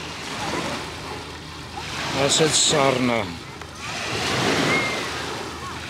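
Lake Sevan water washing against the shore at Harsnaqar, a soft broadband surf that swells twice, with people talking nearby over the lapping.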